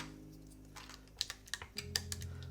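Keystrokes on a Han's Keyboard NEO802 mechanical keyboard, starting soft and growing into a string of crisp, uneven clacks, close up with no talking.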